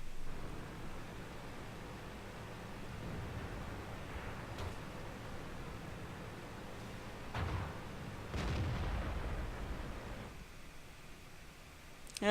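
Tank guns fire in a tank video game during a fight with an enemy T-150. A few heavy, muffled booms are scattered over a low rumbling battle background, with the loudest blasts clustered near the end.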